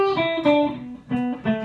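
Electric guitar lick descending a pentatonic scale across two octaves, a quick run of clean picked notes with bright sustained harmonics, heard up close and alone.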